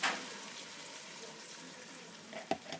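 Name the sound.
tomato paste added to frying onions for aloo gosht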